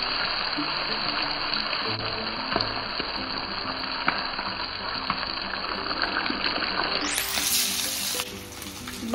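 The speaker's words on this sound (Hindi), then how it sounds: "अभी मैं इसको बस फ्राई कर लूंगी" Food fries in hot mustard oil with a dense, continuous sizzle and crackle that swells sharply louder near the end, close to the pan, with no speech over it.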